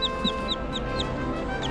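A baby chick raised by hand peeps in a quick run of high, short chirps, close and steady over a faint background hum.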